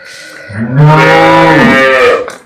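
A cow, one of several dairy cows offered for sale, gives a single loud, close moo lasting about two seconds, rising and then trailing off.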